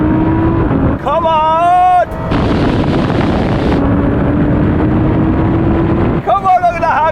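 Loud, close engine roar as a Lamborghini Performante, a 700 hp GT-R and a Porsche Cayenne Turbo GT accelerate hard in a drag race, rising in pitch through gear changes, with a voice shouting briefly over it.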